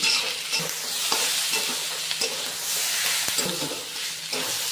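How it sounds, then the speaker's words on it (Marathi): Chopped onions frying in oil in a pan for gravy, part of a large-batch potato and brinjal mixed vegetable dish, with a continuous sizzle broken by repeated scraping stirs of the spatula, close and steady. "ग्रेव्हीसाठी आपण कांदा फ्राय करून घेऊया।"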